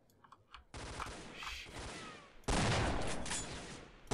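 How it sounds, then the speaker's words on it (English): Bursts of gunfire in the video game StalkerSoup in a dark area: a few faint shots, then a loud sustained volley, and a second heavier burst of rapid fire near the end. "I'm honestly just shooting at flashes now"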